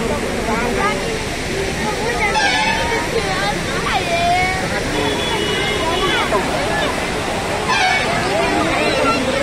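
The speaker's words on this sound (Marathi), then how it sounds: "तुम्ही आनंद घ्या या धबधब्याचा" Amboli waterfall in Sindhudurg roars as a loud, continuous rushing wash of water in the rain, with crowd chatter, shouting voices and an occasional vehicle horn over it.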